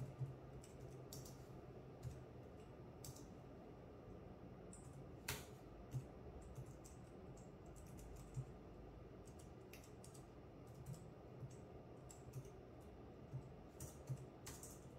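Keys clatter on a computer keyboard while setting up a Proxmox server, a faint, irregular run of clicks and short bursts with sharper isolated taps over a low room hum.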